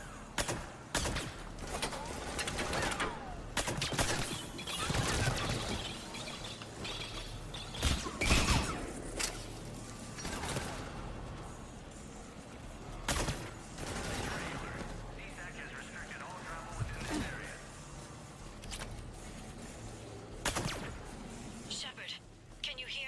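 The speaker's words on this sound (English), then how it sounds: "Reports are coming in of gunfire on the Silver Sun Strip." Gunfire in the video game Mass Effect 3 crackles through a dense, busy mix: scattered bursts and sharp shots spread across the stretch, with mechanical clatter and voices talking over the action.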